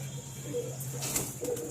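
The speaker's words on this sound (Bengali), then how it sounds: "এটা আবলুক ঘরের পায়রা" A baby pigeon from a home loft coos softly in a few brief low notes, near and quiet, over a steady low hum.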